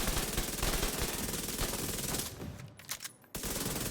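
Weapon reload and rapid firing in The Division 2, a dense gritty mechanical rattle running steadily at close range before cutting briefly to near silence and snapping back in.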